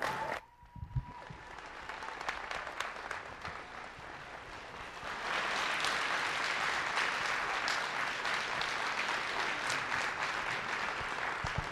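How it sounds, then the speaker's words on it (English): Audience applause at the close of a creation versus evolution debate on anthropology, a full room clapping steadily and swelling louder midway, sustained without speech. "Give both of them a round of applause, would you?"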